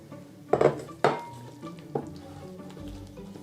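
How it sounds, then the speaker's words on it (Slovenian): Dough is mixed in a bowl with a fork or wooden spoon as liquid is poured into flour, giving a few sharp clinks and scrapes against the bowl with soft stirring between them. "Počasi prilivamo k moki in vmes mešamo."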